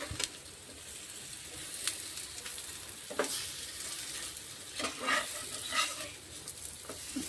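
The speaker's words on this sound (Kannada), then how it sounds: "ಈ ರೀತಿ ಶಾಲೋ ಫ್ರೈ ಮಾಡಿದೆವಪ್ಪ ಅಂದ್ರೆ ಇದು ಇನ್ನೂ ಚೆನ್ನಾಗಿರುತ್ತೆ" Healthy homemade snacks shallow frying in a pan, a continuous soft sizzle with occasional clinks and scrapes as the pieces are turned over, heard alone without talk.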